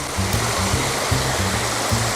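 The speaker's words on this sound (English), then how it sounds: "this is the water flow coming from the pond itself here" Water flows out of a pond in a steady, close rushing stream, with a low pulsing burble repeating underneath throughout and no voices.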